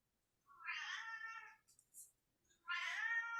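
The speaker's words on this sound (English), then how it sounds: "I hear a cat." Two clear cat meows, one longer and drawn out, then a pause with a faint squeak before a second loud meow; close and distinct.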